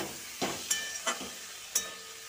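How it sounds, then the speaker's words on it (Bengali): Mustard paste is stirred in a hot pan under a soft, low sizzle, marked by three or four distinct scraping strokes spaced about a third of a second apart. "সর্ষে বাটা দিয়ে এবার মিনিট 2-3 নাড়বো।"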